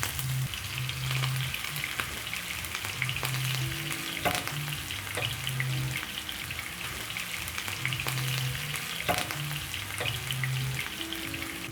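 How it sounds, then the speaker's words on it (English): Beef meatballs fry in hot oil with a steady, close sizzle and crackle, broken by occasional clinks and stirring sounds, with no talking. "Now I'm going to place my meatballs into the oil. You're going to fry 1 to 2 minutes on each side."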